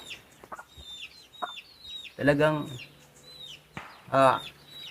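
Chickens cluck in short bursts, with a couple of louder squawking calls standing out, while a person speaks briefly in the background.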